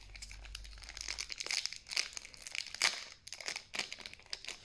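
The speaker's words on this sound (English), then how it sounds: "And so first I'm going to sleeve those cards." Plastic sleeves being slid onto trading cards while opening a Battle Styles elite trainer box, giving soft crinkling and rustling in uneven bursts, close by with no talking.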